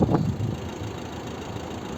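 A 2012 Volvo V50 with a 1.6 diesel engine idles, heard near its exhaust as a low, steady rumble with a brief louder puff at the start, faint overall and without speech.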